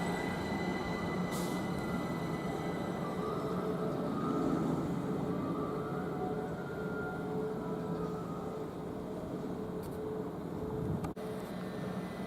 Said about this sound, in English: now departing, the pair of 379s off to London King's Cross